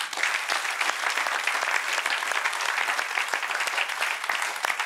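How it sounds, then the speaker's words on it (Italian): Audience applause for a leisure club's members, a dense, even wash of many hands clapping steadily throughout, fairly close and sustained with no voices standing out. "Je vous demande d'applaudir"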